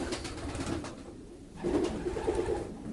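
Dolle-line Ardennes pigeons coo softly in a loft, a few low murmuring calls close by with quiet shuffling between them.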